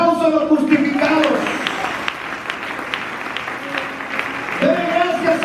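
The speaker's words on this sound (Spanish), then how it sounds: "un aplauso a los justificados" A church congregation applauds during a sermon, scattered clapping of moderate loudness mixed with voices and a singing or speaking tone that rises and falls around it.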